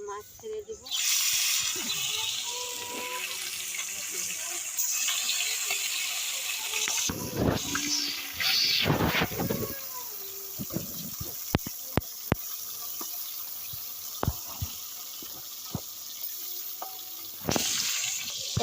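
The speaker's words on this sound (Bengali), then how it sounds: "তেল গরম হয়ে গেছে, এবার মাছ ছেড়ে দিব।" Tilapia pieces dropped into hot cooking oil sizzle and spatter, with sharp pops and clatters from stirring over a continuous frying hiss, while a voice talks at times.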